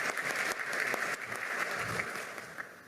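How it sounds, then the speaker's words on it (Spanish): Dense applause from an audience at a government palace medal ceremony, steady and full throughout, fading slightly toward the end. "Fuertes las palmas para la señora."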